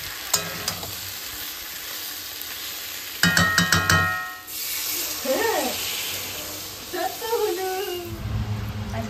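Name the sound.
potatoes frying in a pan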